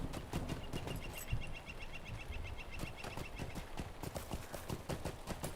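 A horse's hooves clip-clop at a steady trotting rhythm in the game LOTRO, fairly quiet and even throughout, with no voices.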